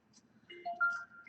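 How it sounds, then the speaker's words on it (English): Short phone text message alert tone, a quick rising sequence of two or three bright electronic beeps, fairly close and clear against a quiet room. "Text message."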